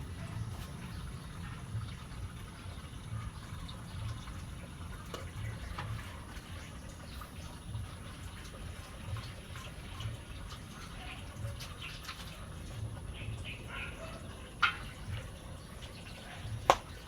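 Water runs and drips steadily during lambanog distilling, a constant low wash with scattered small drips and a few sharper splashes near the end, fairly faint and without speech.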